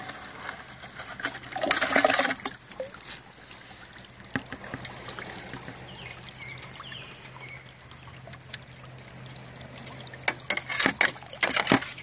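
Water runs through a gold sluice in an Indiana stream with a continuous close trickling flow and louder bursts of splashing and rushing near the start and end.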